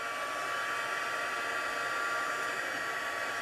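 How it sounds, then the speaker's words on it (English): A Stampin' Up heat embossing tool blows hot air in a steady, unbroken whoosh with a hairdryer-like whine, close and fairly quiet, with no talking over it. "so now this is our heat tool. This is from Stampin' Up."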